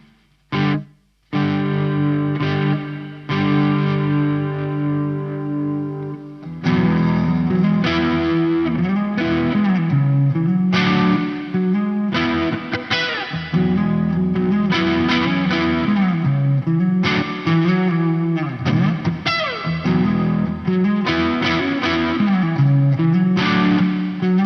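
Electric guitar played through a Sonicake Levitate pedal on its plate reverb setting, with chords and single notes ringing out in long, washy tails. The guitar is loud and upfront, with short breaks between phrases.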